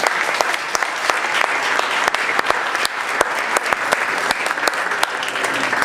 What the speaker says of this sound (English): How about one more big round of applause?